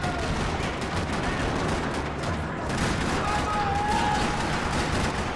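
Bursts of gunfire rattle across a parking lot in the game Max Payne 3, a dense, continuous wash of shots and noise running the whole stretch, with voices mixed in.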